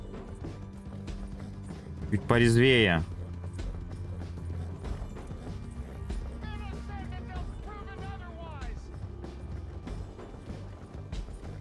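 Horse hooves clip-clopping in the Red Dead Redemption 2 game, with a loud horse snort or whinny early on, under game ambience and spoken Russian commentary.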